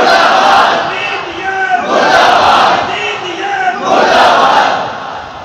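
A large crowd at a religious gathering chants the murdabad slogan in unison, three loud, rhythmic surges of massed voices rising and falling in a steady call pattern.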